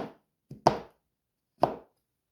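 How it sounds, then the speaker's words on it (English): Three knife chops through chocolate on a board, then a short pause and a fourth: sharp, close, dry taps with quick decay and no talk. "then you chop it anyway because it's not breaking apart"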